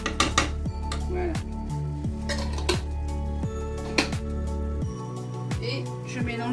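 A spoon scrapes and clinks around a pot of oriental-style chili con carne as it is stirred, in repeated rhythmic strokes over steady background music.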